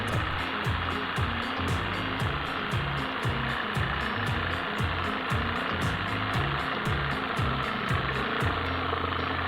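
An Orion jigsaw cuts through 5 cm thick wood that is held down by foot instead of clamped. It gives a loud, steady, rapidly pulsing buzz that runs throughout.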